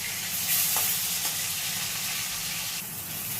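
Pieces of a large fish fry in a pan with a soft, steady sizzle and hiss throughout, fairly quiet and with no talking.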